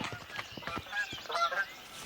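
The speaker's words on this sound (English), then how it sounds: "Canada geese." Canada geese honk in a scattered cluster of nasal calls, several overlapping honks at moderate distance in an outdoor spring setting from a children's cartoon.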